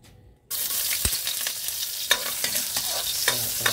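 Hot cooking oil sizzles loudly after food drops into the pan for sautéing, with a steady frying hiss and occasional stirring scrapes and clicks, close up.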